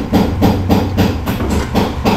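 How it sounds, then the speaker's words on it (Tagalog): Steady rolling bubbling with a hissing wash from chicken sinampalukan soup boiling in a pot, pulsing in regular surges, close and fairly loud with no voices. "So yun mga katoto, kumukulo na."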